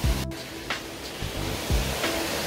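A mountain stream flowing down Heebang valley on Sobaeksan rushes as a steady, close, full-bodied wash of water with a few low thumps, no voices present.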